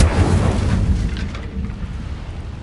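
A booming, roaring fire spell bursts out in Hogwarts Legacy, a loud sustained rumble of flame that slowly fades over a couple of seconds, with no voice.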